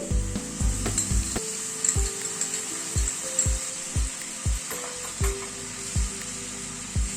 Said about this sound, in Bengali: গ্যাসের ফ্লেমটাকে কমিয়ে দইটাকে ভালো করে নাড়তে হবে